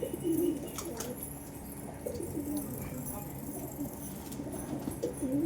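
A flock of pigeons busy eating grit gives off soft, repeated low coos, a continuous nearby murmur with a few clearer calls standing out.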